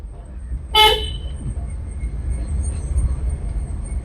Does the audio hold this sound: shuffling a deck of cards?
no